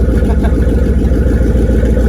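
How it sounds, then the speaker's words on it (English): A car engine with a race-car character runs steadily and loud up close, a low, throaty, continuous drone with a slight pulsing texture and no clear revs up or down. "Sounds like a race car."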